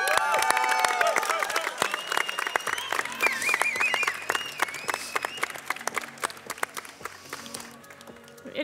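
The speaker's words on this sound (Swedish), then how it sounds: "en applåd för dig" Applause and cheering from the crowd at the Årets Kock 2016 chef competition final, mixed with shouts and bustling hall noise; lively at first, then thinning into scattered claps and background commotion.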